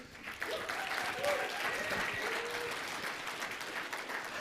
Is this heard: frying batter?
no